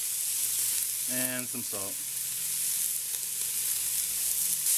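Beef chunks for stew sizzle loudly and steadily in a hot pan, a continuous close frying hiss with a brief voice speaking partway through.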